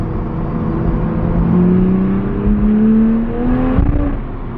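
A 2020 Toyota Supra fitted with a bigger turbo accelerates hard, its engine note climbing steadily in pitch through a sustained pull before easing briefly near the end, loud and close with no talking.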